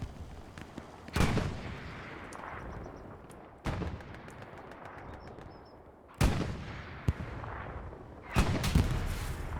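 Heavy tank cannon shots in the Hell Let Loose World War II battle game, including a Sherman firing. Several loud booming blasts land at irregular intervals over a steady rumble of distant gunfire and battle noise.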